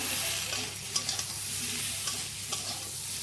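Chili powder being stirred into a sizzling pan of big eggplant and prawns, a spoon scraping in scattered strokes over a steady close frying hiss, with no voices.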